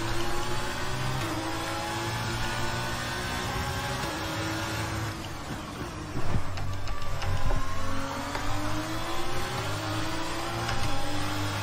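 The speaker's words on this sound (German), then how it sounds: "Dazu fahren wir natürlich mal wieder eine schnelle Runde mit einem Formel 1 Auto" A Formula 1 car engine in the F1 22 racing game drones steadily at high revs, its pitch shifting through gear changes and acceleration with no talk.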